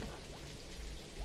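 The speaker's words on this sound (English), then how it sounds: "And to top it all off, rain out of nowhere." Rain falls in the video game Rainswept, a soft continuous hiss of drops pattering on surfaces, faint and even throughout.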